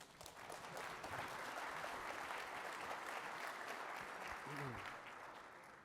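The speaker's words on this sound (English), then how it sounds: "Give them a round of applause, folks." An audience at a water summit panel session applauds the introduced panelists, a thick, sustained wash of clapping from start to finish, with a brief voice breaking through near the end.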